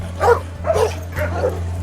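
A dog in a film scene barks three times in quick succession, each bark a short, full-bodied burst over a steady low hum.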